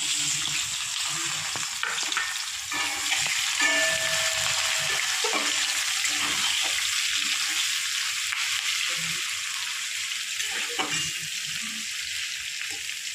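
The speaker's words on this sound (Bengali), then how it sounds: "আমি এক বাটি পেঁয়াজ কুচে রেখেছি, 4-5টা আমি তেলে দিয়ে দেবো, দিয়ে ভেজে নেব।" Chopped onions frying in oil for a magur fish curry, a loud, continuous sizzle with occasional stirring scrapes and clatter in a home kitchen.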